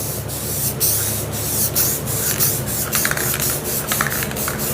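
Spray can hissing a glossy sealant coat over spray paint art, with a continuous close airy spray broken by short pulses and brief gaps as the can sweeps back and forth.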